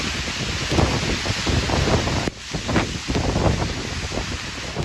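Strong storm wind buffets the microphone over the rush of waves on the Spencer Gulf as a deep low pressure system passes, a loud, continuous roar with gusty surges and a brief dip partway through.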